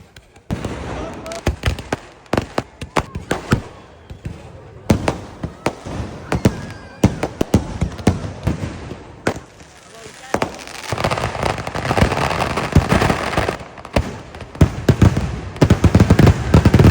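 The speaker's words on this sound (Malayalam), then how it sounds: "പൂജ ആവുന്ന സമയത്ത് വെടിക്കെട്ട്." Fireworks go off at a night temple festival puja in Kerala, a dense run of sharp bangs and crackling bursts, close and loud, coming faster and merging into a continuous crackle toward the end.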